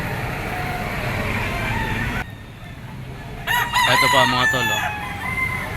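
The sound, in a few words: bull stag rooster crowing, yellow-legged panderado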